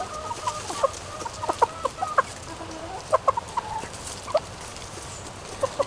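Blue hens clucking on a farm, with short, scattered clucks and chirps rising over steady low background noise, some birds near and others farther off.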